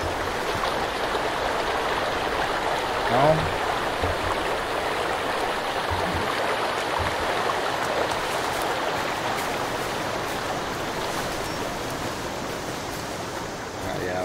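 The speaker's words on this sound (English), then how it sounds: "Can you cross the water?" Flowing stream water in the survival game Sons Of The Forest, a steady, soft rushing wash continuing throughout, with someone briefly speaking over it.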